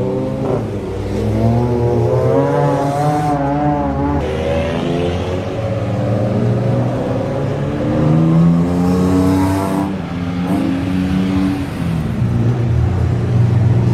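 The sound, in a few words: race cars pulling out for wet qualifying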